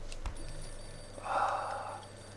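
A telephone rings in the Mafia II video game, a single short burst of bright electronic ringing against a steady game background hum.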